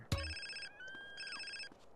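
A mobile phone rings in GTA San Andreas: a short electronic ringtone with bright tonal beeps in two bursts, following a sharp click at the start, clear and close with no talk.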